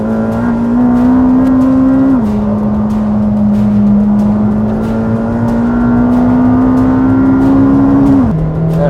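A McLaren Senna sports car drives on a racetrack in Portugal, its engine a loud steady drone heard from inside the cabin, with pitch climbing gradually and dropping sharply at two gear changes.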